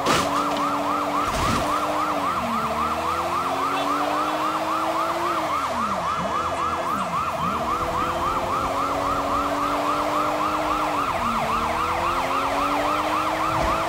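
Several police sirens wail in overlapping cycles during a car chase in the video game Sleeping Dogs, loud and continuous over the rumble of engines and tires, with no talking.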